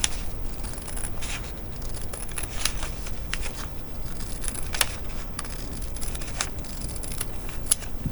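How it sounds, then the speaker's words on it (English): Scissors snip around a pinned fabric circle for a flower petal pillow, producing soft, irregular crisp cuts and rustling over a low continuous background, close and moderately quiet. "I'm going to lay mine down, pin it on, and cut it out"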